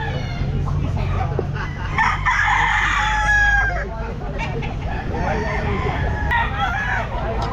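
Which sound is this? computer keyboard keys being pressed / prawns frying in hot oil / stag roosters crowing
stag roosters crowing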